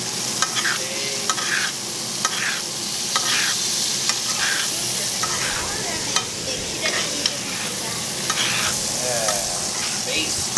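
A steak cooks in butter in a pan with a constant dense sizzle throughout, broken now and then by light ticks and stirring clatter. No voices are heard.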